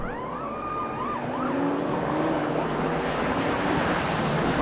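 A police van siren wails in an AI-generated scene, its rising and falling tone sweeping repeatedly over a steady rushing background noise, moderately loud and with no voices.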